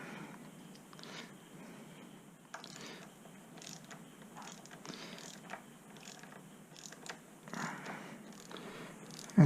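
A hand ratchet tightening the supercharger bolt on a Kawasaki H2 SC motorcycle engine, a rapid close clicking of the pawl in repeated bursts with brief pauses between strokes, fairly quiet with no talking.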